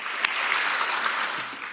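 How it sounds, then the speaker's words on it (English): An audience at a forum session applauds a presenting group, a dense wash of clapping from many hands that holds steady before easing off slightly, heard at moderate distance. "Group 3, I think we can give them a round of applause."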